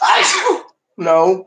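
A single loud, close sneeze bursts out, followed after a short pause by a person speaking.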